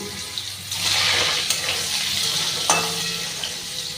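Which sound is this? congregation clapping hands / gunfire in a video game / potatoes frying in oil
potatoes frying in oil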